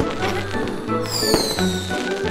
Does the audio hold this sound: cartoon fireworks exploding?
yes